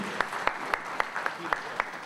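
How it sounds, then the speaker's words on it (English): An audience at a business summit in Mumbai claps in a steady rhythmic beat, the even hand-claps ringing out in a quiet, reverberant hall. "A huge round of applause, ladies and gentlemen."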